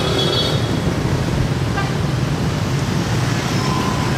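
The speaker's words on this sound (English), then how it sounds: "Absolute madness with traffic, that's typical." Dense city traffic on a street in District 3, Saigon, Vietnam, with a constant roar of motorbikes and cars and several short horn toots rising above the steady rumble.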